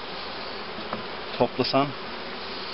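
A dwindling honeybee colony buzzes in a steady, low hum from a hive opened for a pre-winter inspection. Brief human speech cuts in near the middle.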